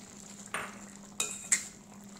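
A spoon stirs aviyal vegetables with a small whole mango in a pot, giving three sharp metallic clinks and scrapes spaced across a quiet background, close and otherwise still.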